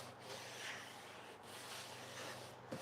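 Pallet wood edges being hand sanded with a foam-backed sanding block, a close, soft rasping rub in repeated strokes with brief pauses between passes.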